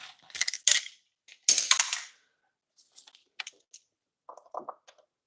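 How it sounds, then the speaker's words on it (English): A ratchet turning out the rear spark plugs on a MOPAR engine: close, dry metallic clicks come in short bursts of rapid ratcheting, with pauses and a few lighter taps and clinks of tools in between. "we're getting our back spark plugs out here finally"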